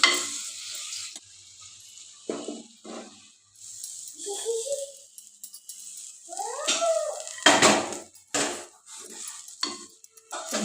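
Ridge gourd curry with boiled jidugulu is stirred in a pan, with intermittent scraping and sizzling bursts between quieter gaps and a brief high whining sound in the middle.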